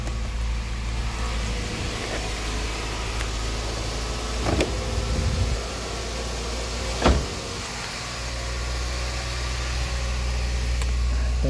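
A car engine idles steadily after a crank start powered only by a super capacitor, a close continuous low drone with a few brief knocks and clunks and no talking.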